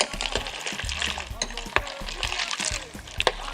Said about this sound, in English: just let it soak in there, but mix it up a little bit. Get the fruits and the ice going